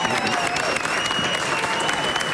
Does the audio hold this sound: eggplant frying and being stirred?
no